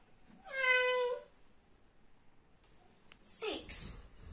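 A cat gives a clear, drawn-out meow up close, then a second shorter, higher meow follows after a quiet pause.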